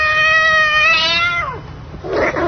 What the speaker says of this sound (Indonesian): dan kucing itu melompat ke jendela